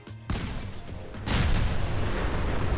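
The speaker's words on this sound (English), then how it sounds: "detonating one will typically initiate a chain reaction that clears out the" Cars blow up in a chain reaction inside a Fallout 4 vault, heard as a dense, sustained roar of overlapping booms and blasts that swells louder after a brief opening thump.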